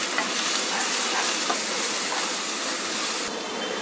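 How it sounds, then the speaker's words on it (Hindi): Two medium chopped onions fry in hot vegetable oil in a pan, giving a loud, steady, close sizzle with faint crackles that eases slightly near the end. "ऑयल अच्छा खासा गर्म हो गया है तो इसमें डाल देंगे हम 2 मीडियम साइज के प्याज"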